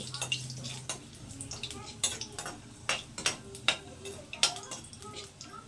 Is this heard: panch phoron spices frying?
yes